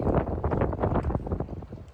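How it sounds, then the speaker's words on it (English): Strong wind buffets the microphone in a continuous low roar, close and dominant, with no voices. "I think it's windy."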